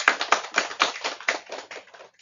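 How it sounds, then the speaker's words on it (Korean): Congregation clapping at a church service, about ten distinct claps in a fairly regular rhythm that gradually softens and thins out over two seconds. "모두 박수 한번 주시기 바랍니다."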